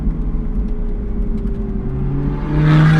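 A car approaches on the road, its engine hum steady at first and then swelling into a rising, louder whine as it draws close and passes.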